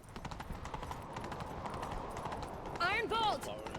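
Rapid horse hoofbeats clatter in a steady galloping rhythm under a busy video game mix from The Witcher 3, with a voice calling out briefly near the end.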